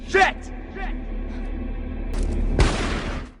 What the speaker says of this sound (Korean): 톰은 총소리에 놀라 넘어지고 맙니다.